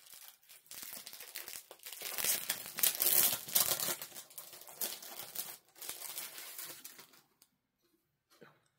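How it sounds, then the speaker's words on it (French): Crinkling and tearing of plastic packaging as a cross-stitch chart is unwrapped, close and fairly loud, a steady run of rustles peaking midway before trailing off into silence. "Donc je vais la déballer aussi."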